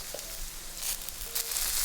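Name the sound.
garlic, ginger and chili stir-frying in oil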